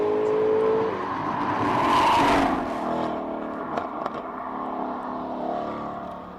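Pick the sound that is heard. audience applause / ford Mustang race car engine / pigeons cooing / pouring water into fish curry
ford Mustang race car engine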